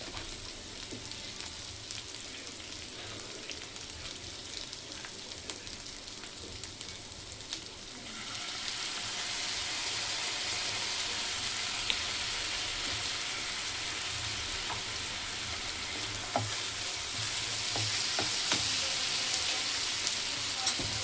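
Chilli chicken sizzles and fries in a hot pan as soy sauce is poured in; a steady frying hiss turns louder and brighter partway through and keeps on without talk.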